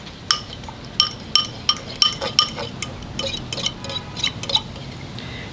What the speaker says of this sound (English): Okay, I'm just going to stir that in.